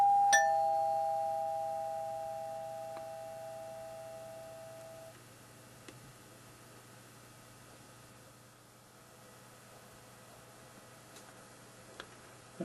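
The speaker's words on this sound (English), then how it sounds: "if you want a more traditional doorbell tune," A traditional doorbell tune chimes from a house access control system, a clear two-note ding-dong in the opening seconds that rings and fades into a quiet room with faint ticks.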